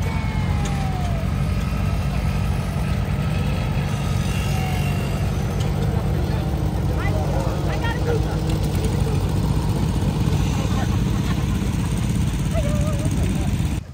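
Tractors roll past in a parade at an agricultural museum's power show in Central Washington, their engines making a continuous low rumble and drone, with occasional voices nearby.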